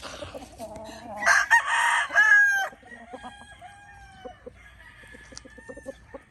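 A white bulik gamecock on a gamefarm crows loudly and close, one long strained call, then follows with a series of softer, scattered clucks.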